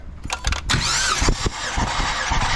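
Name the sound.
car engine starting after rev limiter raised to 7000 RPM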